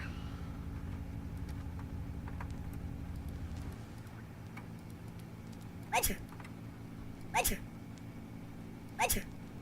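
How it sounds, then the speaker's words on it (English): Three short, sharp sneeze-like bursts spaced a couple of seconds apart in a Five Nights at Freddy's fan game, over a steady low engine-like rumble. "How you sneezing?"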